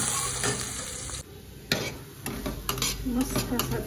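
Chapati chivda is stirred and tossed in a sizzling pan with metal clinks and scrapes. The frying hiss runs continuously underneath, and brief knocks of a spoon against the pan sound close and fairly loud.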